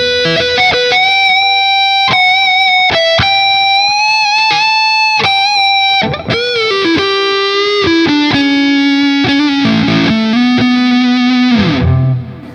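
Lead tone from a Backwing electric guitar on the neck pickup, running through the amp's third channel with the controls wide open: loud, sustained, distorted notes and bends in a continuous melodic phrase, close and unaccompanied.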